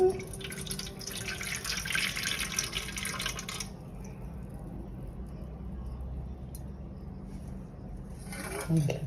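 Water trickles and drips as it is slowly poured off soaked semolina (rava) in a kitchen, a soft steady pouring with a brighter splashy stretch early on, then a quieter low flow.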